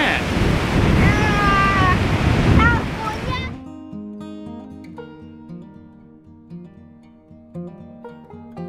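Surf at the Santa Cruz Beach Boardwalk in California rolls in as a loud, steady wash for about three and a half seconds, overlaid with a few high squeals or voices, before music takes over.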